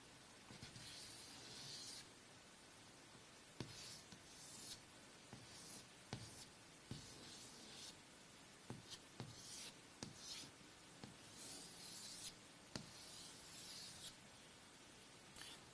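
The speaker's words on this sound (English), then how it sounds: "Let's actually draw something here." Pencil or pen scratching across paper while drawing a squid, a run of short rubbing strokes and scribbles with brief pauses, close and fairly quiet, no talking.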